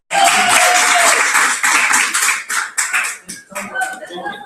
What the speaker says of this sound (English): can I get a round of applause for